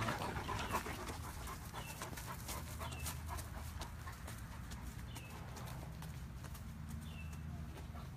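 Great Dane dog panting close by, steady rapid breaths in a continuous rhythm, with faint bird chirps and light taps in the background.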